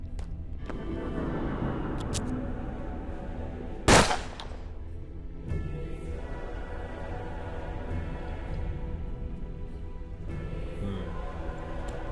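A single sharp gunshot from the video game Hard West cracks out loudly once, standing alone over a low, steady background of game ambience.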